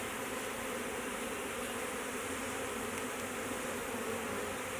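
A swarm of bees drones in a dense, steady buzz, close and continuous with no pauses and no voices.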